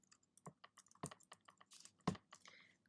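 Typing on a computer keyboard while writing code, a quick irregular run of close, crisp key clicks with a few heavier thumps, quiet and without talk.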